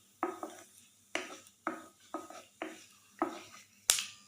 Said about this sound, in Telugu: ఇప్పుడు మనం వేసుకున్న తాలింపు దినుసుల్ని మనం వేయించుకోవాలి.